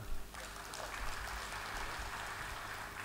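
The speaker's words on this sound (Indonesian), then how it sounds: "Pada saat ini boleh tepuk tangan, Pak." Audience applause fills a hall during a speech at a 30th anniversary ceremony in Indonesia. It starts after a brief moment and continues as a steady, even wash of clapping.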